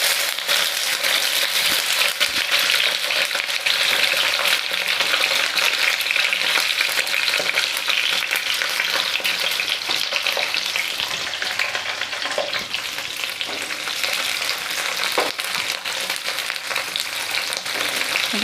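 Spice paste for a flat bean dish frying in hot oil over a medium gas flame, a loud, steady crackling sizzle with light stirring and scraping throughout.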